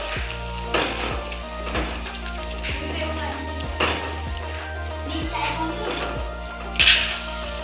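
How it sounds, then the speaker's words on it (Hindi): Yogurt masala for fried bhindi sizzles steadily in a pan, with a spoon stirring and scraping in regular strokes close by. "दही को मैं अच्छे से मिक्स कर लूँगी और इसको मैं भून लूँगी दही को"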